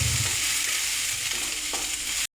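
Ginger garlic paste fries in oil, a loud, close, hissing sizzle with stirring that carries on steadily before cutting out abruptly at the very end.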